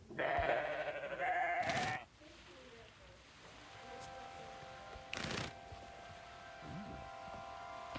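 Sheep bleat in the WorldBox video game, a couple of loud wavering bleats at the start followed by brief rustling bursts and quieter game sounds with a steady tonal hum.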